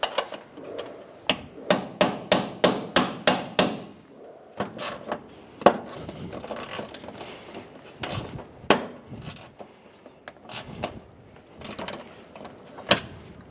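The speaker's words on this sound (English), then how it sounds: "I'll hammer it on and try and twist this off." A hammer drives a rounded-off socket onto a stuck front bumper bolt of a 2007-2011 Toyota Camry, sharp metallic blows in a quick run of about eight strikes, then scattered irregular hits, close and loud.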